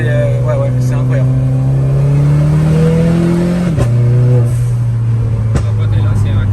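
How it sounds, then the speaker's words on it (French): A performance car's engine revs with a steady rising drone, then a sharp drop as the throttle lifts, with dump valve and exhaust pops as brief crackles; the engine stays loud and close throughout. "le son de la dump est incroyable et les pops au passage sont aussi très bien"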